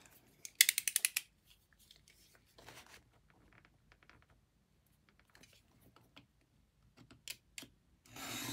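Scissors snip the excess off a paper bag in a short burst of crisp cuts early on, followed by faint handling rustles and a few scattered clicks nearby.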